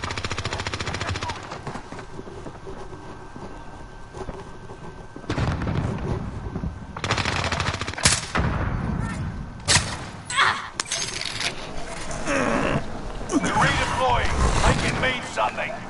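Gunfire and explosions sound in Call of Duty gameplay, with bursts of automatic fire, sharp single shots and heavy blasts clustering in the second half, mixed with game voices and a player talking throughout.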